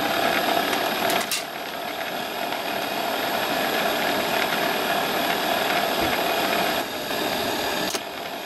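An old milling machine's gearbox and worm gear running dry, with its feed shaft turning. The mechanical whir is steady and close, with a couple of brief clicks and knocks along the way.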